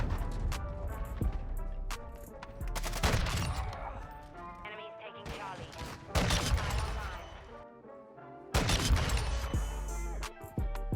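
Rapid bursts of SPR 208 rifle fire in Warzone 2.0 crack loudly in three clusters, separated by brief lulls, with game effects filling the gaps.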